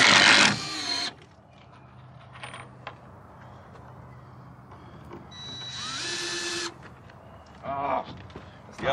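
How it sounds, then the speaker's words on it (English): A power drill drives fasteners while an A-frame goat playhouse is being built, with a few short whirring bursts up close, the loudest at the start and another around the middle, and quiet stretches between them. "You have the better drill."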